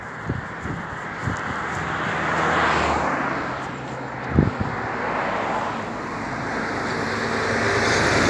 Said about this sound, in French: Bon là il y a un tracteur qui arrive derrière là.